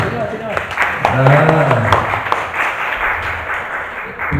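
An audience in a library hall at a book discussion breaks into brief applause for a speaker, scattered clapping over someone talking into a microphone.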